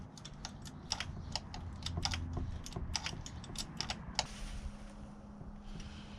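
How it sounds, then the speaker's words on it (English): A wrench turns a bolt in small increments, giving a close, irregular series of sharp metallic clicks over a low background hum. "little turns here with the wrench, and we're almost done"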